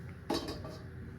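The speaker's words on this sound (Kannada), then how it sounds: "ಇದಕ್ಕೆ ಒಂದು ಬಾಣಲಿ ಇಡ್ತಾ ಇದ್ದೀನಿ." A frying pan is set down on a kitchen stove with one brief metallic clank and a short rattle, heard up close against quiet room background.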